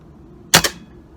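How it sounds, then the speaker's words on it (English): A gun fires a single blank round at close range: one sharp, loud crack with a quick second burst right behind it. Quiet surrounds the shot, with no talking. "I'll fire it off. I think it's a blank shot."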